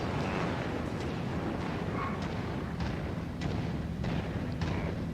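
Incoming gunfire in the MechWarrior 5 video game, a dense, rumbling barrage of booms and impacts over a loud constant roar, with sharper hits scattered through the clip.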